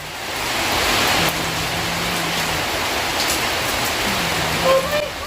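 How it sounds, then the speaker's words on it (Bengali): Rain falls with wind blowing, a steady broadband wash of drops and gusting air that swells slightly early on, with a couple of faint tonal sounds in the background and no clear speech. "বৃষ্টি হচ্ছে আর এদিকে হাওয়াও হচ্ছিল"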